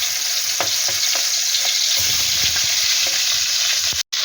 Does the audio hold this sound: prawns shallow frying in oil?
yes